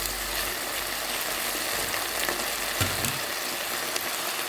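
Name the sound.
peppers frying with soy sauce in a pan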